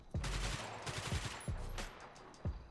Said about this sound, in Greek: Κοιτάξτε με το Uzi.